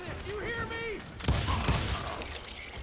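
An explosive barrel blows up in the video game Call of Juarez: Gunslinger, a sudden loud burst with a rumbling tail amid ongoing game noise, with a voice talking over it.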